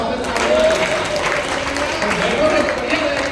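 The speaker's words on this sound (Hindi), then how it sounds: "कवियों की बात लगती ताली बजाओ" Audience at a Hindi comic poetry gathering in Rosera claps steadily, a moderate continuous patter of applause with a voice speaking over it.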